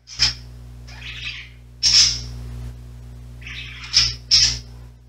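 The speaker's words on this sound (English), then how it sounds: "Sorry for my birds in the background." Pet birds in a home squawk and chirp loudly in several sharp bursts, with shrill high calls separated by short pauses, close to the microphone.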